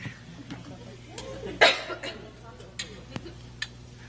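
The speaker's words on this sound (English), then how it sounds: "It's really awkward coughing at a concert when that happens." A few scattered coughs and throat clearing rise from the audience at a school band concert, faint against a quiet hall murmur, with light ticks and clinks between them.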